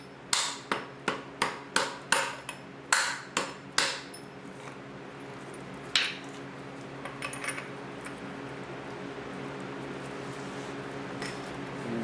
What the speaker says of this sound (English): you're going to have to take a hammer or whatnot and knock it back a little bit